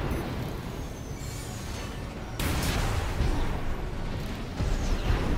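Rumbling explosions and booming blasts in Armored Core VI, fairly loud and continuous, with bursts of noise as cannons are destroyed.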